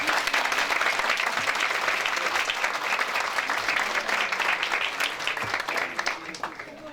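Sustained audience applause fills a large seminar hall, dense and steady for the full length, tapering slightly near the end.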